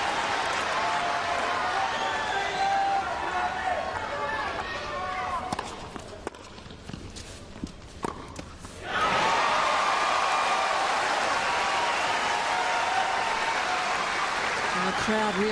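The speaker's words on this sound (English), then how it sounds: "And the crowd really encouraging Hingis." Tennis crowd cheering and applauding during a Hingis versus Clijsters match, a dense roar of claps and voices that dips briefly midway, then surges back loud and sustained.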